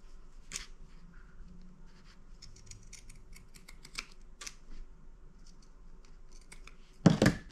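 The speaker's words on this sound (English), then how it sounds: "clip my corners and either clip around the curves or use pinking shears" Scissors clip fabric corners and around curves on a Halloween sewing project, a handful of soft, close snips spaced irregularly in a quiet room, ending with a louder rustle.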